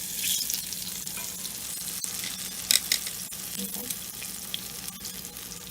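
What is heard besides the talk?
tofu nuggets frying in oil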